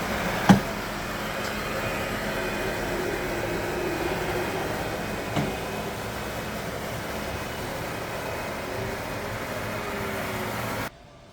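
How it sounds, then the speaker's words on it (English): A Eureka E110 scrubber dryer runs in vacuum-only mode, sucking up excess water from a floor as a steady, even motor drone with a couple of small knocks, cutting off abruptly at the end. "it's just a case of vacuum button on its own, and you go along and you collect all the excess water"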